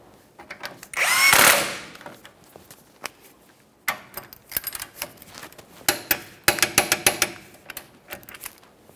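A power tool runs on a locking nut on a Toyota Sienna rear shock mount, giving a short loud whirring burst followed by choppy rapid rattling impacts and brief bursts, close-up and without talk.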